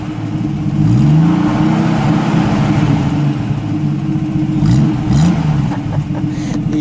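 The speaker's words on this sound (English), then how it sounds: "Give it a rev, would you please?" A 1973 AMC Gremlin X Levi Edition with an inline six engine revs up from idle and settles back in two close, loud swells, with a steady engine rumble between them and no talking.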